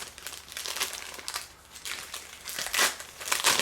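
Disposable Japanese underarm sweat pads being opened, with close, loud plastic crinkling and crumpling in irregular bursts and no talking.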